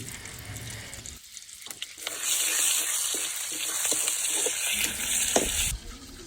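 Cumin, bay leaves and green chillies frying in mustard oil, a sharp hissing sizzle that swells loudly as the chillies hit the pan and holds steady before easing off, with no voices.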